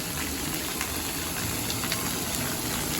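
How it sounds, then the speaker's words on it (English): Water gushing and splashing steadily at a resort water play area with slides and a dumping umbrella, a continuous broad rushing wash heard close with no talk over it. "the water shooting all over the place out of it"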